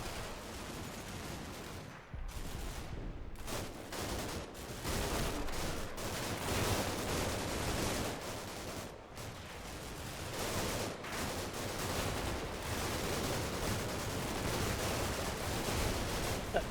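Dense, sustained gunfire and artillery from fire support in Combat Mission Shock Force 2 as Royal Marines storm a village, a loud continuous barrage of overlapping shots and blasts with brief lulls.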